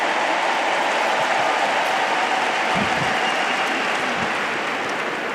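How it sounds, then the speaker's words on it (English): A large stadium crowd at the US Open women's tennis final applauds the finalists, a loud, steady roar of clapping that fills the space without letup for several seconds. "How about another round of applause for Aryna and Coco?"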